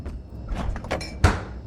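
A few dull knock-like thuds at a door in a horror video game, with the sharpest hit near the end. They sit over a low ambient game backdrop and no one speaks.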